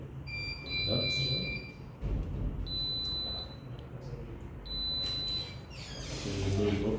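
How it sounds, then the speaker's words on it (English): A Risco security alarm system beeps repeatedly after a cross-zone sensor is tripped, steady high tones pulsing in bursts alongside a person talking nearby. "if we try and trip one of these, because they are fast in the sequence, then you'll see our alarm responding"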